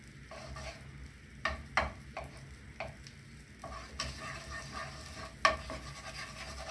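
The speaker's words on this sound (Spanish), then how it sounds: "Ahora vamos a poner aquí en el sartén la mantequilla." Butter melts in a frying pan with a quiet, steady sizzle, broken by scattered sharp scrapes and taps of a utensil against the pan.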